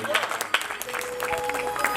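An audience claps at a Hindu devotional jagran, a burst of applause from a crowd mixed with speech and background music over a sound system.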